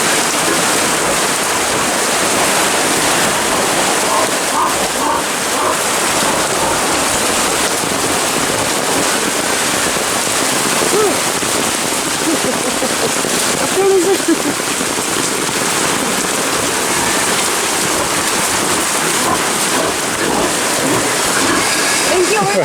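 Heavy rain pouring down in a steady, dense hiss that stays loud and unbroken from start to finish, with no voices over it.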